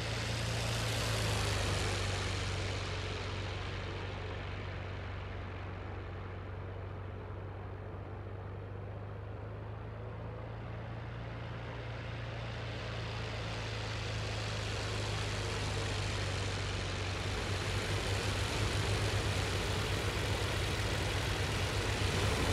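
Steady drone of the Mercedes D.II engine on a Halberstadt D.II biplane in flight in the Flying Circus game, a continuous low hum with a strong low tone, even in loudness throughout with no talk.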